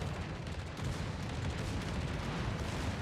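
Heavy battleship gunfire in a naval video game, a dense continuous barrage of deep booms and rumble, loud and close, with no voices.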